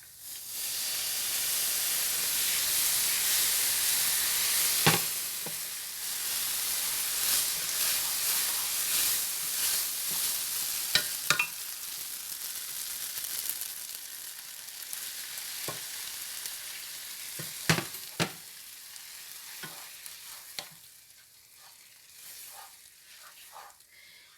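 Beef broth poured slowly into a hot pan for shepherd's pie, bursting into a loud, steady hiss of sizzling and steam that gradually settles, with a few sharp pops and clinks along the way.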